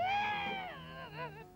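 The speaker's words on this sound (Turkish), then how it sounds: "Geliyorum kuru gürültücü pis kedi." A cartoon cat gives a drawn-out, wavering meow followed by a shorter second cry, loud and close, in an animated Smurfs scene.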